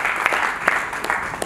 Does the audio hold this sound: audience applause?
yes